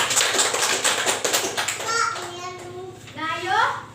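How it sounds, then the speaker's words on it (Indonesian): Children in a classroom clap together for a student group, a dense burst of claps mixed with kids' chatter and voices, with a teacher-like voice and children's talk overlapping toward the end. "tepuk tangan dulu untuk kelompok 2"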